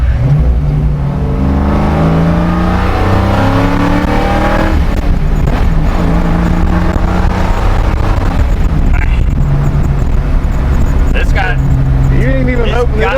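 A 1959 Edsel fitted with a 351 Cleveland V8 drives along, its engine droning and rising through the gears close up, with people talking over the steady motor.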